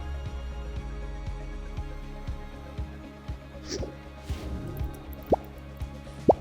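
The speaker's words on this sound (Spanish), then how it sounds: "Vamos a llenar esta botella de gas oxihidrógeno, que es el gas que expulsa nuestro electrolizador." Water drips and plops as a bottle of water is displaced by oxyhydrogen gas from a homemade electrolyzer: a steady run of close, distinct drips with a few louder plops and gurgles toward the end.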